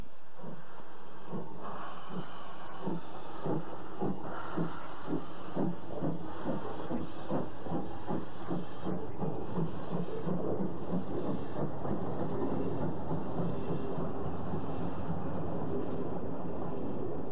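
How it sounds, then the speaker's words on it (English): A steam locomotive chuffs in a steady, quickening rhythm, each exhaust beat hissing with steam over a continuous background rush. "the engine set out with her first train"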